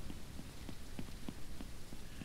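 Steady rain falls in the Ranch Simulator video game, a dense, even patter with scattered distinct drops ticking on a surface, continuous and moderately quiet with no voices.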